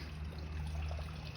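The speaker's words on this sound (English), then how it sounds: "Got like a little tap here that I can use just to get some water if I want" A small tap on an air-powered garden pond setup runs a steady, faint stream of pond water, a continuous low gurgle and trickle with no breaks and no voices.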